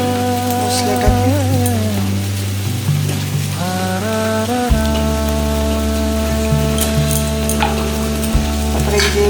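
A cumin, ginger and chili spice paste fries in hot oil with a loud, continuous sizzle and crackle, while steady tonal music plays over it and no one speaks.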